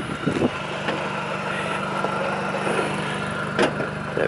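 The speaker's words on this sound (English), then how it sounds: "you get loads of pops and crackles and also flames coming out of the exhaust." A MINI Cooper S 1.6 with 168 bhp, stainless exhaust system and coilovers idles steadily with a low, even engine hum, punctuated by a few brief sharp pops or clicks.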